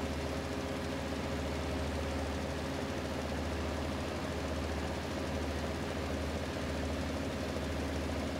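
Steady low engine idle of a John Deere 7810 tractor heard from the in-cab view in Farming Simulator 19, a constant droning hum with faint vibration and no talk.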